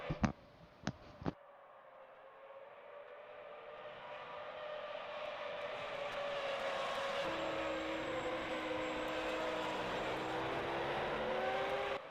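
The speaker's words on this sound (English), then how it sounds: "Bernd Maylander piloting the safety car around the course" Safety car lapping the Austrian Grand Prix circuit in a racing video game, a steady engine drone that swells and rises in pitch as it carries on, preceded by a few brief sharp clicks, with no talk.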